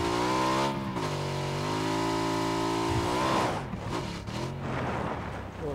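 A motorcycle revving in PUBG: a steady, buzzing engine tone holds and shifts pitch, then drops off into rougher, fading mechanical noise, loud and close, with no one speaking.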